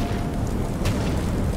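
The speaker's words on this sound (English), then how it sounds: "Who's shooting me?" Gunfire strikes the player in the survival horror game Alien: Isolation, heard as a dense, loud, continuous low rumble with a brief sharp burst partway through, and no talk.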